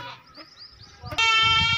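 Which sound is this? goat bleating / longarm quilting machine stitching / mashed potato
goat bleating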